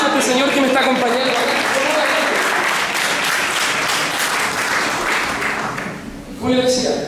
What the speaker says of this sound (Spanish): Un fuerte aplauso a este señor que me está acompañando.